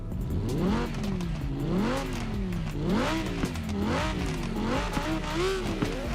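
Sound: Audi R8 engine revving, video game

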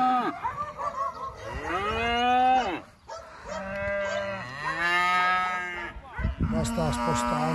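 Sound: Piemontese cattle mooing while being moved to pasture

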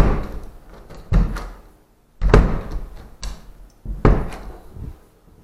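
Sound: door being closed that won't shut

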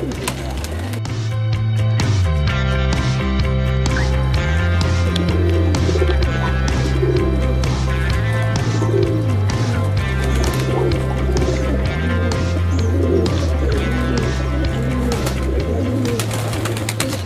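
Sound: pigeons cooing

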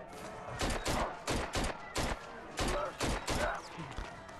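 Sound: gunfire from shooting at enemies in video game ZombiU

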